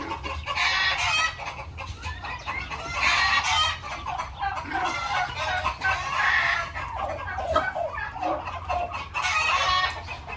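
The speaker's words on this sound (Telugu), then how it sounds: "అటువైపు గిన్నె కోళ్ళు అనమాట." Guinea fowl on a farm in Dubai let out several loud, harsh bursts of clucking calls in quick succession, each lasting a second or two, over a quiet background.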